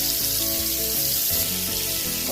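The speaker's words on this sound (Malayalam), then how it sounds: "പൊരിക്കാനായിട്ട് എണ്ണ ഇട്ടിട്ടുണ്ട്. ഇപ്പോൾ പൊരിക്കുന്നുണ്ട്" Fish, sardines, sizzle steadily in hot oil in a home kitchen, a close, continuous crackling fry with no talking.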